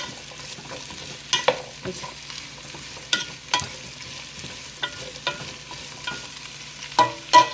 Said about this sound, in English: you're basically going to saute these for about, I guess about 10 minutes.